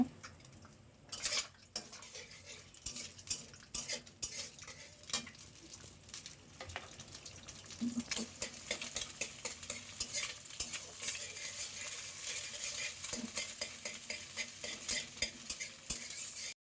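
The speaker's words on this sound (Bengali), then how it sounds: "আমি এখানে ফ্রাইড রাইস রান্না করার জন্য এখন একটা ডিম ভেজে নিব আগে" An egg fries in a pan with a pinch of salt for fried rice, with a spatula stirring and scraping against the metal; soft, close sizzle with irregular clinks and taps, growing busier after the first few seconds.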